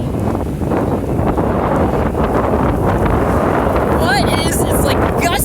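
Strong wind gusts from a passing rope tornado near McCook, Nebraska roar loudly into the microphone as continuous buffeting, with a voice briefly audible near the end.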